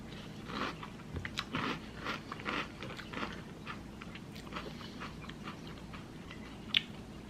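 Crunchy frosted Magic Spoon cereal being chewed close up, a steady run of crisp bites and crunches with no talking.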